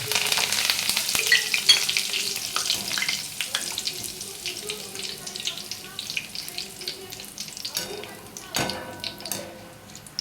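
Curry leaves crackle and sizzle in hot oil while dal chanachur is made, loud at first and then settling into a softer spatter with scattered pops.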